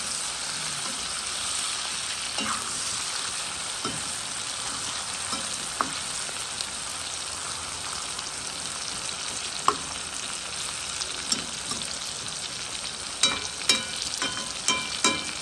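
Onions and sausages sizzle steadily in a frying pan, a continuous crackling hiss with occasional scraping stirs and small pops toward the end.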